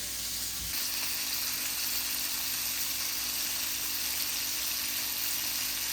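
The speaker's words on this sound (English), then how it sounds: "I'm also going to drop some more butter into here." Butter sizzles and crackles steadily in a hot pan with patties frying, a continuous close hiss that stays even throughout with no talking.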